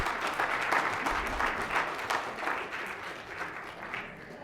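Audience members at a city Common Council meeting applaud after a public comment, a steady, crowded burst of clapping that slowly thins toward the end.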